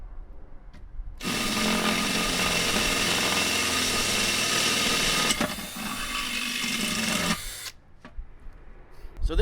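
An electric drill bores a hole through the lid of a Weber Q grill, a loud, steady whine that runs several seconds, dips in pitch partway as it bites, then stops abruptly.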